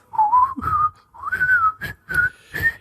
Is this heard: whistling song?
yes